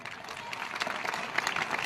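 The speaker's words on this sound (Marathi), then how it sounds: "जोरदार टाळ्या वाजवा" Crowd applause at a Marathi public talk, a steady dense patter of many hands clapping close by throughout, with no voices over it.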